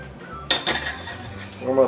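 Metal pots and pans clank and clink on a kitchen stovetop while preparing Spanish rice, with a sharp knock followed by lighter rattles, close and fairly loud.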